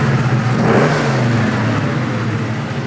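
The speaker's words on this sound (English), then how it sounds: "We've had this Chevelle out here idling, warming up for about half an hour." A Chevelle Super Sport with a 454 V8 and 4-speed runs loud and close on a cold day, its deep, rumbling engine droning steadily with slight swells in pitch.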